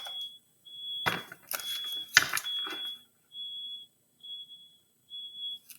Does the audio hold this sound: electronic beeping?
yes